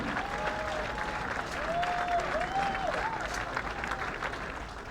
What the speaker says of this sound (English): Please continue to clap for the Vice Chancellor until he asks you to stop.